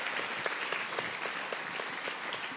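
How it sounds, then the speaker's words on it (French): A hall audience applauds a staff member at a mathematics event, steady mid-distance clapping that holds evenly throughout without any talking over it. "Julie, on peut l'applaudir aussi."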